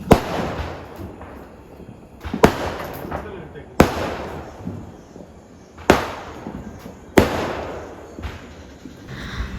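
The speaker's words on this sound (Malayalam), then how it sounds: "എല്ലാ വീട്ടിൽ നിന്നും വെടിയൊക്കെ പൊട്ടുന്ന സൗണ്ടും" Firecrackers burst during the Vishu festival in Kannur, Kerala: five loud, sharp bangs roughly two seconds apart, each trailing off into a rumbling echo over a noisy outdoor background.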